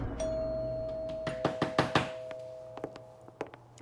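Sharp knocks on a door in a domestic setting, a loose cluster of about five quick raps followed by a few softer scattered taps, heard clearly over a steady low hum.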